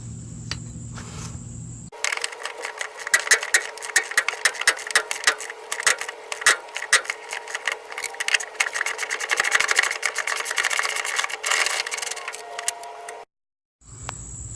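Bolts being worked loose from the body mounts of a Chevrolet C10 truck, a dense run of ratcheting, clicking metal that fills nearly the whole span, loud and close, with short quiet breaks at the start and end.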